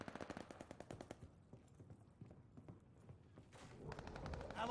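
Gunfire in the video game Call of Duty Vanguard during a multiplayer hardpoint match, with fairly quiet rapid automatic bursts early on that give way to a busier, rising mix of game noise.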